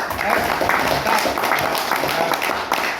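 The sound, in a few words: audience applause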